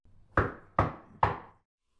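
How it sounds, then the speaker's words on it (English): Three firm knocks on a wooden door, evenly spaced about half a second apart, close and distinct with a short ring after each, followed by silence and no voices. "There was a knock on the door."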